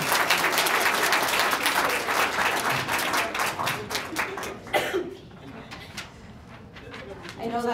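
An audience at a regional Poetry Out Loud finals fills the room with dense, loud applause for the contestants that thins after a few seconds into scattered claps, with voices murmuring underneath.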